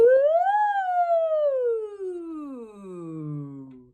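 A single voice imitates a siren as a singing warm-up, sliding up in pitch then gliding slowly down in one long, smooth sweep.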